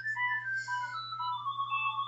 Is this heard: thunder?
no